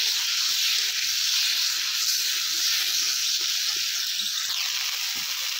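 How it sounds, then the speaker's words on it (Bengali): Potatoes sautéing with salt in a pan give off a loud, steady hiss of frying oil that runs the whole time without a break, with only faint scrapes now and then underneath. "এবার এটা ভালো করে আমি একটু কষাবো।"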